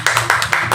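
Audience applause welcoming a poet onstage at a Hindi poetry recital: steady, dense clapping from a nearby crowd, with a rhythmic swell through the short burst and no voices.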